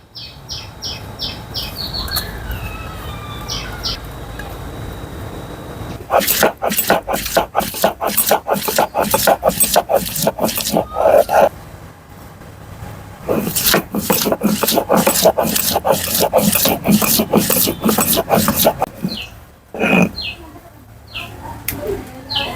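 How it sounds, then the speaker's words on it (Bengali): Onion and green chilli ground into paste on a grinding stone, long runs of rapid rhythmic scraping strokes, loud and close, with birds chirping and cooing in the background between bouts. "এখন আমি বেটে নেব পেঁয়াজ আর কাঁচামরিচ"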